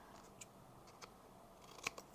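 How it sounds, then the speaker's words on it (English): Scissors snip the corners off a paper Christmas tag in a few quiet, crisp cuts spread apart, the last one sharpest, with soft room hiss between them. "So just line it up, trim off the corners,"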